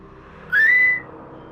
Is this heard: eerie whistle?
yes